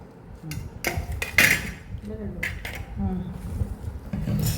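Metal rice-cooking pots and utensils clank and scrape in a series of sharp knocks, with faint voices in the background.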